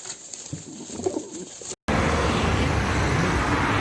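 Pigeons coo softly and repeatedly at close range beside roadway traffic, then a louder, steady rush of noise takes over after a brief cut.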